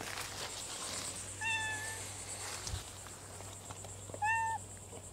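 A cat gives two clear, drawn-out meows a few seconds apart, close by in a quiet garden with faint background ambience and a low steady hum.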